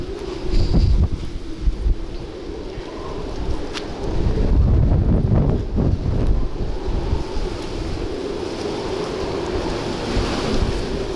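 Strong winter wind in Crimea buffets young thuja trees and the microphone with loud, roaring gusts that swell and ease, close and continuous, with no voices over it.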